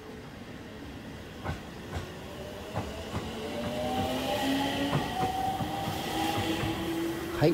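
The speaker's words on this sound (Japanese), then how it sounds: "電車は行っちゃったんですが" A train pulls away from Fujioka Station on Japan's Gotemba Line with rhythmic clickety-clack of wheels over rail joints and rising mechanical whine, moderately distant and steady.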